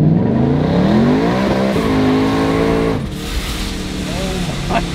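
A Dodge Hellcat with a ProCharger supercharger revs hard, its engine note climbing in rising pitch sweeps and then dropping, loud and close from inside the car, while people talk over it.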